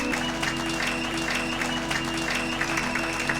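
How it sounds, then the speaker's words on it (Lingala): A church congregation claps steadily and continuously throughout, a dense even wash of applause over a faint sustained musical tone. "Acclamez pour la gloire de notre Dieu"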